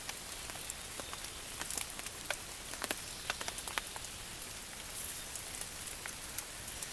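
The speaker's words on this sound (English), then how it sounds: "This rain sucks, I know that much." Steady rain falls outdoors during a long hike home, a dense even hiss with scattered sharper drops ticking close by throughout, no voices.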